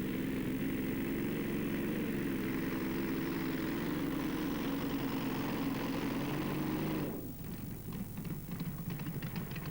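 A Rolls-Royce Meteor V12 engine taken from a Centurion tank drones in a loud, steady low rumble, then cuts to a rougher, pulsing idle near the end.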